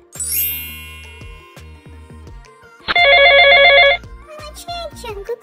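A mobile phone rings with an incoming call, a loud patterned ringtone lasting about a second amid music and soft background sounds.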